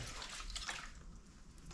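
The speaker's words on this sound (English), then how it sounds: "we've got water, or coolant I should say, absolutely everywhere" Coolant pours out of a split motorcycle radiator during a workshop repair, a quiet, brief watery trickle and splatter with no voices.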